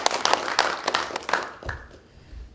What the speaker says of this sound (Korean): 그럼 박수로 통과해 주시기 바랍니다.